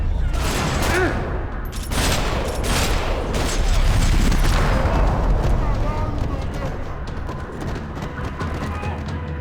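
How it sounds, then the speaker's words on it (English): Rapid bursts of gunfire and booming blasts crackle continuously in a parking lot in the video game Max Payne 3, loud and dense throughout, with a voice briefly audible amid the chaos. "Another parking lot rattling with gunfire."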